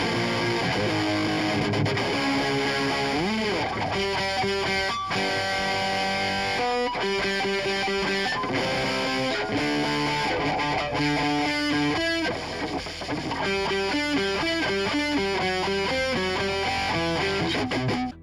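Overdriven electric guitar played through the UK Lux Boosted Lead preset in the Rocksmith+ game, a loud, steady stream of distorted riffs and sustained lead notes with no talking.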